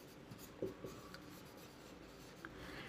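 A maths solution being written out by hand, with faint scratchy strokes of a pen or marker in short bursts and brief pauses, quiet and close with no talking.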